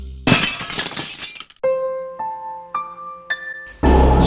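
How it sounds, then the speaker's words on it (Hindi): Car windscreen glass shattering in one loud burst of breaking and crunching, then several clear ringing tones from falling shards and a second loud crash at the end, with no talk. "गाड़ियों के कांच रोज कोई चकनाचूर कर देता"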